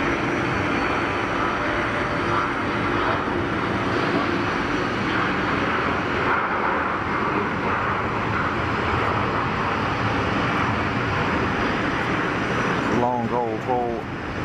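A Finnish-operated Embraer jet makes a long takeoff roll at Geneva Airport, its engines producing a continuous, steady roar of even loudness throughout, with a faint trace of speech.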